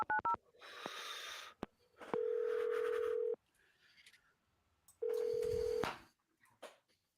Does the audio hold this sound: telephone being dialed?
yes